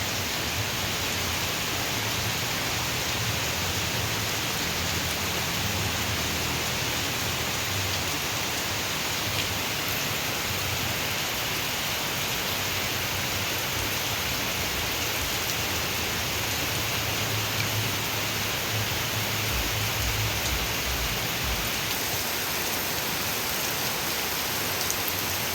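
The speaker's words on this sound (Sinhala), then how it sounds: "පුදුම වැස්සක් වහින්නේ." Heavy rain pours down steadily and densely, a constant loud hiss that never lets up for the whole stretch.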